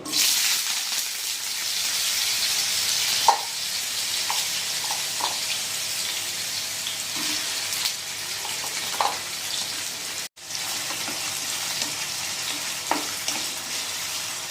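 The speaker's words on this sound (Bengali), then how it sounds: "তেল গরম হয়ে গেছে। আর এখন তার মধ্যে আলুগুলো দিয়ে নেব।" Potato pieces fry in hot mustard oil for a drumstick vegetable dish, giving a steady close sizzle with a few soft clicks and stirring knocks scattered through.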